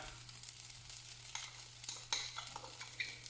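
Onions and leftover cold rice fry in a pan for breakfast fried rice, giving a quiet, steady sizzle broken by a few scraping stirs of the utensil against the pan.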